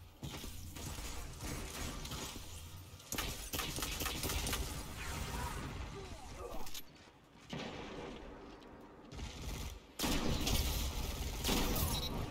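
Gunfire in a Destiny 2 Crucible multiplayer match, dense rapid shots and mechanical clatter that run almost continuously, with short lulls, under game sound effects.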